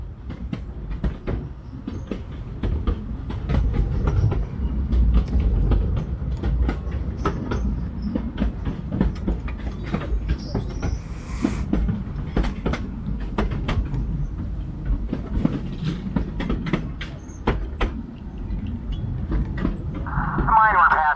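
A narrow gauge train of the Cripple Creek and Victor Railroad in Colorado rumbles steadily along its rails past old mines, with a continuous low rolling drone and scattered clicks and knocks from the wheels, with someone talking over it throughout.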